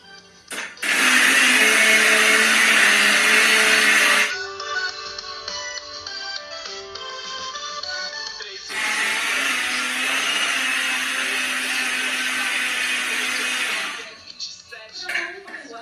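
A blender whirs loudly, beating milk into cake batter in two long bursts separated by a quieter, softer stretch with faint talk in the background.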